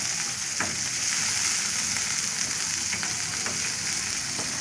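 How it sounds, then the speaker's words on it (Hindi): Fenugreek seeds frying gently in oil over low heat, giving a steady, soft sizzle throughout with a few faint clicks and scrapes, no voices. "मैं थोड़ी सी मेथी डाल के फ्राई करूँगा"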